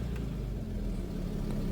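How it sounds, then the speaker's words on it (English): A Range Rover Sport engine runs at a steady idle with a smooth, continuous low rumble, close by and without talk over it. "this engine sounds nice"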